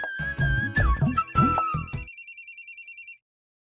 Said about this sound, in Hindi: इतनी रात को इसका फोन है?